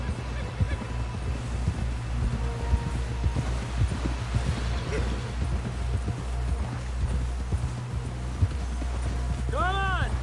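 Hooves clip-clop rapidly in a steady galloping rhythm, close and continuous, with a horse snorting near the end, from the video game Red Dead Redemption 2.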